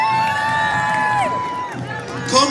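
Crowd cheers and shouts to welcome a speaker onto the stage at an outdoor London rally, a sustained roar with raised voices that thins out near the end.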